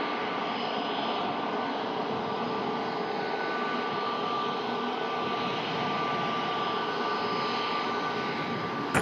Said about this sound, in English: This Ryanair Max is bound for Barcelona.